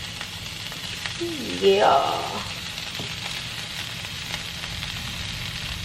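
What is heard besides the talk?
broccoli sizzling as it is thrown into a hot skillet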